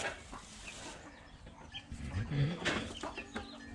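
Backyard chickens cluck softly and intermittently near a house, with a few brief calls rising over low background noise; a voice is faintly present.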